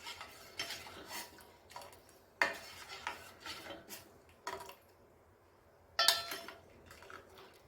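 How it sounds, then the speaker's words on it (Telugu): A spoon stirs ragi malt mixture in a metal pot, making intermittent scraping and clinking strokes, some sharp, with quiet pauses in between and no voices. "ఇలా కలుపుతూ ఉండాలి. కలుపుతూ ఉండడం వల్ల ఉండలేమి కట్టవన్నమాట."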